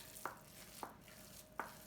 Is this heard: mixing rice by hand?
yes